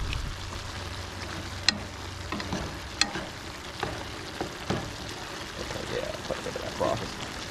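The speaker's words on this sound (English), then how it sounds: "Broth is boiling off." Broth boils and sizzles in a pot on a stove inside a hot camping tent. A soft, steady bubbling hiss carries a few sharp clicks and light knocks.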